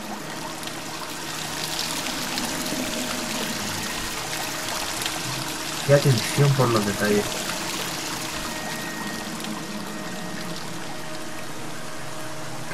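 Flowing river water in the game Dear Esther, a steady broadband rush running the whole time, with someone talking over it and a brief louder splash or swell near the middle.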